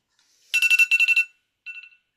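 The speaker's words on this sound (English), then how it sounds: "Oh, that was my timer" A kitchen timer alarm goes off with a loud, rapid electronic beeping in two quick bursts, then a shorter burst after a brief pause, sounding close and alone.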